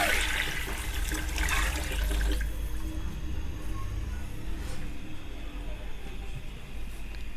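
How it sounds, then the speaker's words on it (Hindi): Water poured in a steady stream into a pot of soaked rice for chicken pulao, about 2.25 litres for 1.5 kg of rice, with a heavier splashing rush at first that settles into a continuous watery pour. "ये पानी शामिल करेंगे इसमें।"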